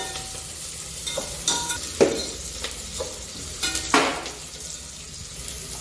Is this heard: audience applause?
no